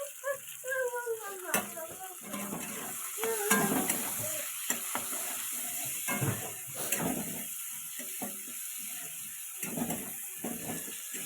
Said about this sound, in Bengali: এবার ওই তেলে আমি পেঁয়াজগুলোকে লাল করে নেব।